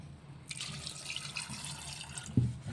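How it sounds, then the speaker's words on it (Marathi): Water is poured onto soaked, washed chickpeas in a cooking pot, a soft close trickle and splash that runs steadily after a quiet start and ends with a small knock. "त्याच्यात टाकायचे पाणी"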